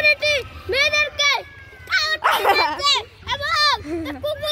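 A dog barks and yelps in a run of close, loud, repeated barks, with a voice mixed in over them.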